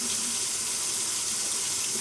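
Cold tap water runs steadily into a kitchen sink over bacon, a close, continuous broadband hiss and splash without pause.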